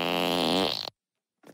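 A loud, sustained cartoon fart from the animated comedy Family Guy blares for almost a second and then cuts off, followed by a short faint sound after a brief silence.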